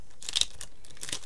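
Paper or a sticker is torn and crinkled for a small handmade artist trading card, a short series of close, dry ripping and crackling bursts over quiet background.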